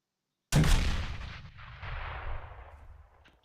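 A single heavy blast from a China Lake grenade launcher in a shooter game hits suddenly after a moment of silence, then rolls out into a long rumbling, crackling decay over several seconds.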